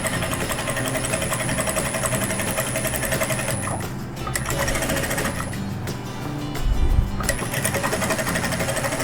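A sewing machine stitches the hem of a dish towel, running steadily and close at a faster pace over an already sewn section, its motor hum and rapid needle chatter continuous throughout with a brief louder thump near the end.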